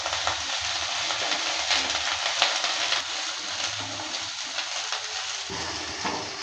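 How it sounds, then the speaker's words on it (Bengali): Broccoli fries lightly in hot mustard oil and gets tossed now and then, giving a continuous loud hissing sizzle with faint stirring movements underneath. "ব্রোকলিগুলোকে হালকা একটু ভেজে নেব।"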